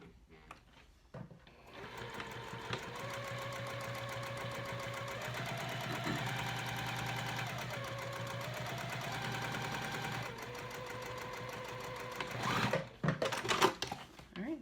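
A sewing machine runs steadily for about ten seconds, stitching parallel lines on fabric for a Noodlehead Range backpack, a close, even mechanical whir with rapid needle chatter, followed by brief handling clatter at the end.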